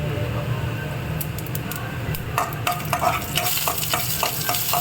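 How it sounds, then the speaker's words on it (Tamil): Mustard seeds and cumin crackle and sizzle in hot oil in a home kitchen, a soft steady frying hiss with sharper popping spatters building up partway through. "நான் இப்போது எண்ணெய் ஊற்றி கடுகு போட்டிருக்கீங்க"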